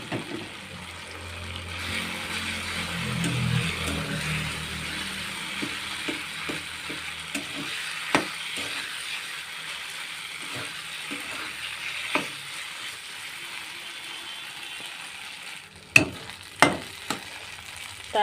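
Lightly mashed boiled potatoes fry in oil with softened tomato for a fish curry, giving a soft, steady sizzle broken by occasional sharp knocks and clicks of stirring, loudest near the end.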